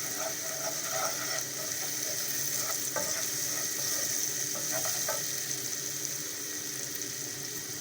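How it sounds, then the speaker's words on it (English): Onions and garlic fry steadily in a pan for a Bengali red spinach and sardine dish, giving a continuous close sizzle with occasional stirring clicks and scrapes. "let the onions soften up, and then the garlic fry up a bit"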